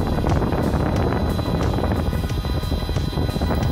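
A small 12 volt fan powered from a TP4056 charger module runs at high speed, giving a loud, steady broadband whoosh with no pauses and no talking.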